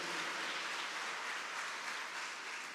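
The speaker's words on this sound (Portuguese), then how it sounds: "Dá uma salva de palmas bem forte para a palavra de Deus." Steady applause from a church congregation, a dense wash of clapping that holds for nearly three seconds and fades slightly at the end, at moderate distance with no voices over it.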